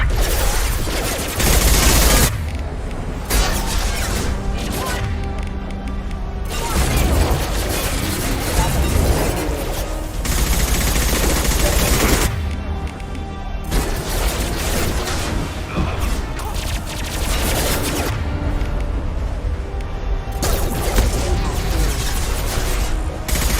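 Heavy gunfire in a fast-paced video game, dense bursts and booms packed together loud and close, with brief lulls between volleys and faint voice chatter underneath.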